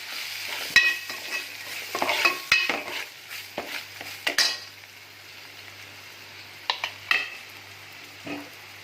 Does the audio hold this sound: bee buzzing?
no